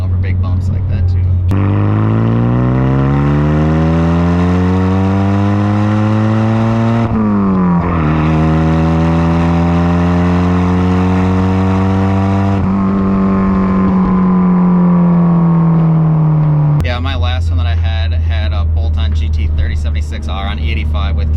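A tuned Mitsubishi Eclipse GSX running on E85 with cams revs hard through the gears, its loud, close engine note climbing in long pulls, dropping at each shift, then settling into a steady drone before rising again.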